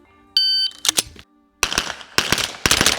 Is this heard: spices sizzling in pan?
no